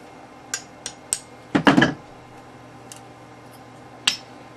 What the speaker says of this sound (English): Just take a punch. Punch block, go ahead and tap the pin out.